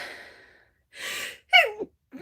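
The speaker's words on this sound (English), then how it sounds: "I'm going to sneeze." A person sneezes in quick succession: a sharp inhale, a breathy burst, then a voiced sneeze with a falling tone, and a short trailing breath, all close and loud in a quiet room.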